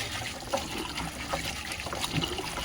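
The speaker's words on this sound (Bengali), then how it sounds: "শাকগুলো ভালো করে ধুয়ে নেওয়া হচ্ছে যাতে কোনো ধুলো বালি না থাকে" Pumpkin greens are rinsed under running water, giving a continuous trickling, splashing flow with small irregular surges as the leaves are handled, moderately close and with no talking.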